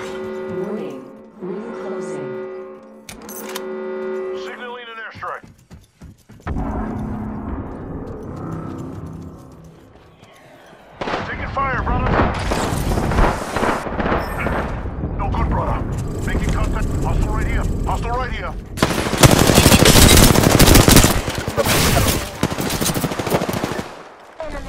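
Gunfire in the video game Apex Legends, including a sniper shot: rapid automatic bursts and heavy shots, loud and dense, mixed with game effects and a talking voice.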